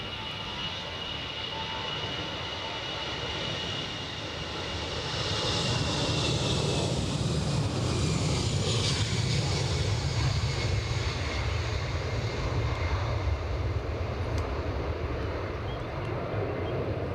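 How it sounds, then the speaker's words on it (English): A small business jet departs Edinburgh Airport, its engine roar swelling from a moderate rumble to a loud, steady broadband roar as it climbs nearer, with no talk over it. "Here's this delectable little bizjet."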